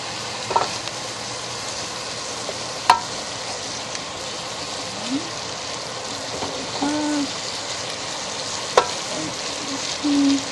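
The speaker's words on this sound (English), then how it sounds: "So now you can see how the shrimp are starting to cook down" Shrimp frying in a pan for shrimp fried rice, a steady close sizzle with occasional pops and utensil clinks, no voices.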